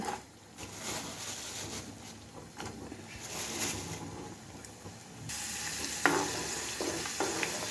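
Cashews frying in a pan for biriyani with raisins added, a soft continuous sizzle and stirring noise, fairly faint and close, turning a little brighter partway through with a few small clinks.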